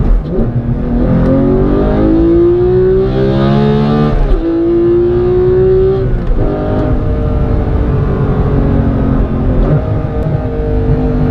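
A Porsche 991.2 GT3 with a manual gearbox drives through a curve, its engine droning loud and close from inside, the pitch rising under load and dropping at a gear change before climbing again.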